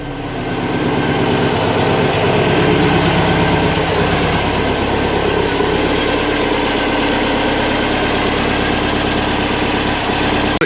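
A VW T2 Bay Window camper engine idles loudly close by at about 1,000 rpm, with a constant rumbling drone and vibration, running evenly without revving.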